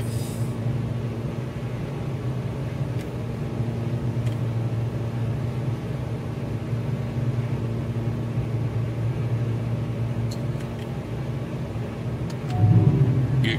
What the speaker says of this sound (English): We've got wind noise off the flaps